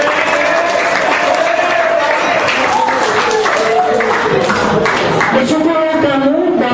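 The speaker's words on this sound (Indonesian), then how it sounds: "Tepuk tangan untuk Pak Edi." A seminar audience on disaster management applauds, sustained crowd clapping at full loudness throughout, with a voice speaking over it.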